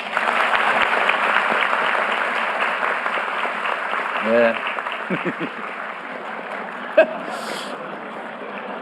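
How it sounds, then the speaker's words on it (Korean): A crowd at a presidential town hall meeting in Jeju claps steadily for about nine seconds, a full, even wash of applause with a brief voice speaking over it partway through. "더 잘하시라고 박수 한번 부탁드립니다"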